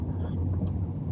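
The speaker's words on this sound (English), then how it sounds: "Yep, there's a car coming along" A car approaching along a road, heard as a steady low rumble of engine and tyres throughout, fairly close and continuous with no talk.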